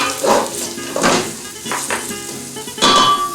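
Onions frying in a pan for chilli con carne, a light sizzle under clattering stirs and knocks of a utensil against the pan, close and fairly loud.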